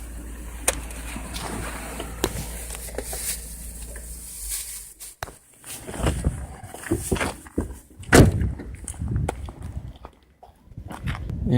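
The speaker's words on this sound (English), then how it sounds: "So open the engine compartment" Engine hood of a Renault Espace being opened, with a series of close, irregular clunks and knocks from the latch and lid, a louder bump partway through, no talk.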